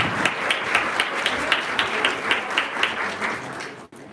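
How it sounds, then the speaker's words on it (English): An audience at a school parent meeting claps together, a moderately sized crowd producing rhythmic applause that holds steady before ending abruptly. "huge round of applause for all"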